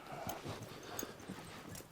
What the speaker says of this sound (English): The 3 horsemen are getting down to the river valley